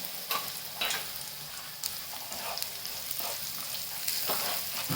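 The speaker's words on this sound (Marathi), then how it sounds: "चांगलं हलवून घ्यायचं" Kashmiri red chili being stirred into frying onions in oil in a pan, a steady close sizzle with repeated scraping strokes of a spoon against the pan.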